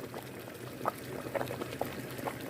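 A pot of beetroot borscht dressing with vegetables boils hard, giving a continuous low bubbling with scattered louder pops and plops, moderately quiet and close, with no talking.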